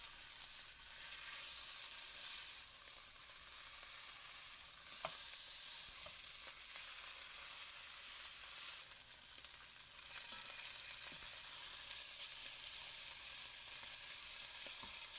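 Lamb osso buco sears in a hot pan, giving a steady, dense sizzle and crackle that runs the whole time with a few small pops, close and even, with no voices.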